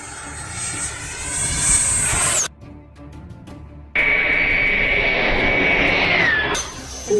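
An RC EDF jet plane roars past at full throttle with a loud, high whine that drops out briefly, then surges back as a close, intense rushing scream before fading.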